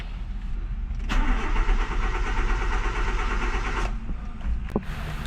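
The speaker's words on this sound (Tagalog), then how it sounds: "Hard starting pa rin guys." Nissan Sentra GSX with a hard-starting fault: the starter cranks for about three seconds before the engine catches, and a couple of short clicks follow, with no voices.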